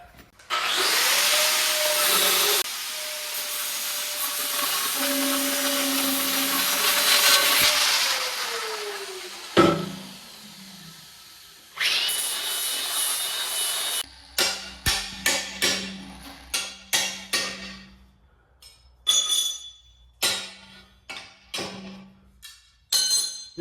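A power saw cuts through a scrap piece of wood in a garage, making a sustained loud whine that dips in pitch under load. Sharp clatters and knocks of wood and tools follow, with no one speaking.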